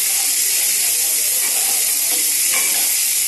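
Onion sizzles and hisses loudly in hot oil in a pan, with a spatula scraping and stirring now and then through the steady frying noise.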